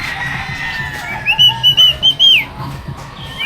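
A clear, high human whistle in a short run of about five notes, some held and gliding, over quiet background noise.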